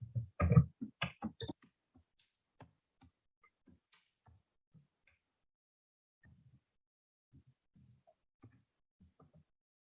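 Computer mouse clicks sound close and crisp, with a dense burst of clicks at the start and then sparse, faint single clicks spaced irregularly through a quiet room.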